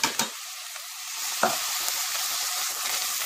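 Vegetables for spaghetti bolognese sizzle and fry in a pan, with a few stirring scrapes near the start, then a steady close hiss and crackle with no talking.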